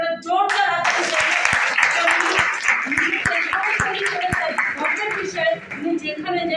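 An audience at a Kolkata office program gives a burst of loud, sustained clapping lasting several seconds, with a voice speaking over the applause.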